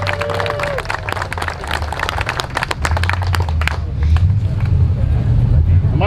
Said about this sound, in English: A round of applause to my daughter.